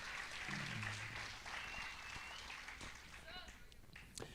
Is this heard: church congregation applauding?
yes